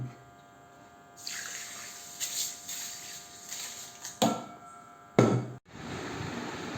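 Water pours in a steady stream onto rice in a container for soaking, for idli and dosa batter, with a few knocks and clunks of a vessel partway through and a short pause near the end.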